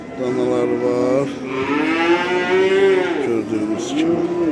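Calves at an outdoor livestock market give long, drawn-out moos, one after another, loud and close, with no talk over them.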